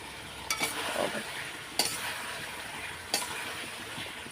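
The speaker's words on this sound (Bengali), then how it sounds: "আলুগুলো দিয়ে একটু কষাবো কিছুক্ষণ" Potatoes and meat fry together in a pan, giving a steady broad sizzle throughout, with three sharp clinks of a spoon scraping and stirring at roughly even intervals; no voices.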